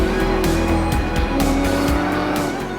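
Ford Mustang Cup race cars roar past at a Virginia circuit during a season-finale race, with loud, continuous engine noise, pulsing gear changes and squealing tires throughout, no talk.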